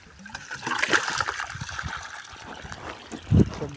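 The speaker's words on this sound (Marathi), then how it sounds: "आता ओप्यातून पाणी सोडलेलं आहे." Water released from an outlet flows through a channel at a lake, a steady trickling and splashing stream heard close by, with a brief louder splash near the end.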